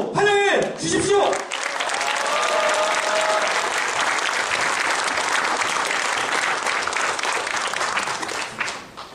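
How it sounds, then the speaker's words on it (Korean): A hall full of activists at a national workers' gathering breaks into warm, sustained applause to welcome speakers, following a brief voice at the start and fading at the end. "뜨거운 박수로 환영해 주십시오."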